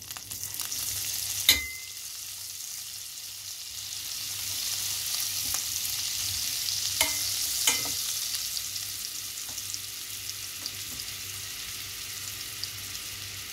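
Butter sizzles in a frying pan with chicken breast, a steady hiss across the whole stretch with a few sharp pops and spatter crackles now and then, close and fairly loud, no talking.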